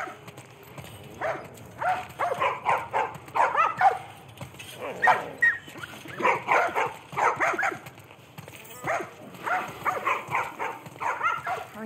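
A dog in The Last of Us Part 1 on PS5 barks repeatedly in bursts of yips and whimpers, an irregular run of close, fairly loud calls with short pauses between groups.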